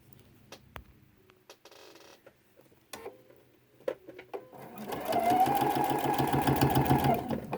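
Sewing machine stitching binding onto a quilt, starting after scattered clicks and handling noises and then running steadily and loudly for the last couple of seconds.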